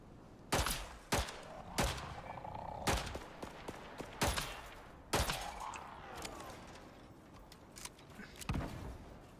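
Single gunshots in the survival game Icarus, about ten sharp loud cracks at uneven intervals, each followed by a brief echoing tail over a quiet background.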